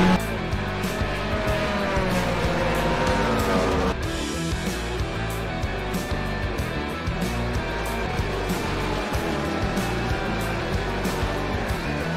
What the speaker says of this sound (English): So these guys are coming around for the formation lap.